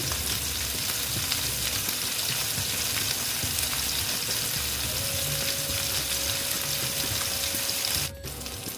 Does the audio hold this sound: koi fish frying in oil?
yes